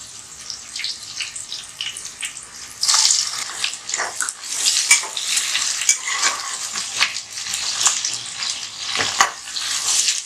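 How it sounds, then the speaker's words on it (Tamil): Sliced onions and four green chilies fry in hot oil for mutton biryani cooked in a pressure cooker, a loud, close, continuous sizzle with stirring scrapes that surges brighter partway through. "பொன்னிறமாக வதங்கணும்"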